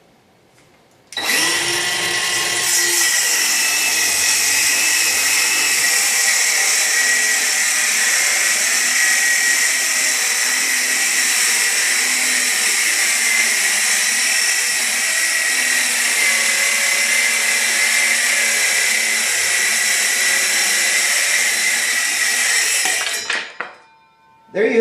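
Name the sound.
Milwaukee M12 FUEL circular saw cutting two sheets of plywood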